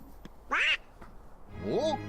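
Donald Duck's raspy quacking voice from the Kingdom Hearts video game, two short garbled squawks separated by a brief pause, clear and up close.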